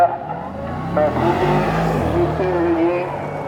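Race cars on a hill climb course pass with a rising and falling engine roar and a brief tire squeal, while someone talks over the noise nearby.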